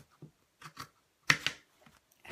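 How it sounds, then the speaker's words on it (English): Scissors snip through cork in a few quick, soft cuts, close and quiet, with short pauses between them. "Now I'm just going to trim up the cork"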